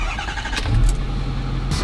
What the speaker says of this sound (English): Gonna get the diesel fired up.